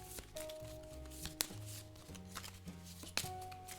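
Playing cards shuffled by hand for a Cthulhu: Death May Die board game, a run of soft riffling and flicking bursts with a few sharper snaps, close and fairly quiet over steady background music.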